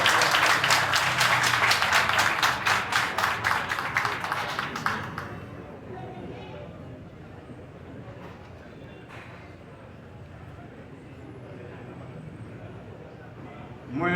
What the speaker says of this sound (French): Applaudissez l'arrivée de Asnel Alexandre.